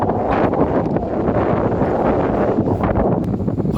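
Strong gusts buffet the microphone on a beach in Wales, a loud, continuous roaring rumble with no speech.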